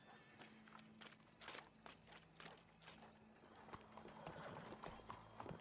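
Horse hooves clip-clop steadily on the ground in the video game Red Dead Redemption 2, a close rhythmic walking gait heard under a low background hum, with faint game sounds mixed in.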